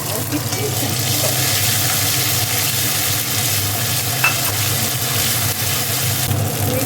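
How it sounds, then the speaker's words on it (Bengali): Dried red chillies and nigella seeds frying in hot oil for a fish curry, giving a steady, close hiss of sizzling with a faint stirring scrape and no one talking. "শুকনো লঙ্কা আর কালো জিরা দিয়ে দিল তেলের মধ্যে"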